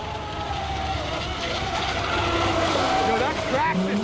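Traxxas RC boats, among them a Miss Geico river jet and a Recoil, race on a Florida river with a loud, continuous high motor whine that rises and bends in pitch as they turn.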